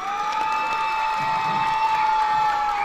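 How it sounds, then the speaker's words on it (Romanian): Audience at a festival laureates' gala in Moinești applauds and cheers steadily, a dense, loud wash of clapping and crowd noise throughout with no talk over it. "Aplaudați-i, merită toate aplauzele dumneavoastră."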